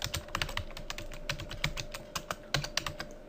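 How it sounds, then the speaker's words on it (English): Typing on a computer keyboard, quick irregular clicks of keys pressed in short bursts, close and clear with no talking. "we erase that, and we can simply type"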